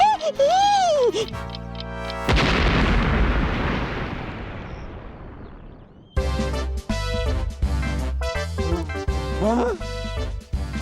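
Loud cartoon-style explosion blast in a children's fantasy show, a roaring burst of noise decaying over several seconds, set between stretches of music with voices.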